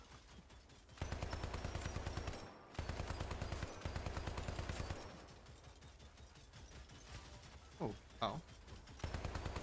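Turrets firing bursts of gunfire in the video game Hypercharge Unboxed, loud rapid bursts with short pauses between them, and a voice briefly exclaiming near the end.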